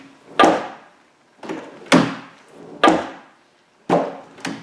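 A BMW E32/E34 car door is pushed shut again and again, six sharp, heavy thuds at uneven intervals, each followed by a short fading rattle, with no one talking.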